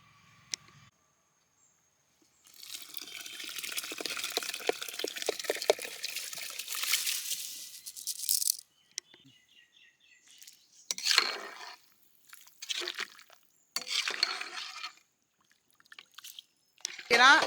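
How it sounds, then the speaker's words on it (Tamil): A pot of water comes to a boil over an outdoor village cooking fire, with a long stretch of bubbling and hissing, then bursts of splashing and stirring amid quiet gaps, while people speak briefly. "வந்து நல்லா பார்த்தீங்கன்னா நல்லா கொதிச்சுட்டு அரிசியை போட்டுக்கலாம்"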